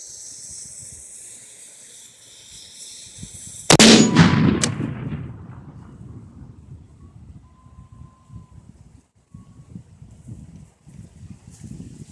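A homemade bowling ball mortar fires with a single sharp, loud boom that decays into a rumbling, hissing tail, then quiet outdoor ambience follows.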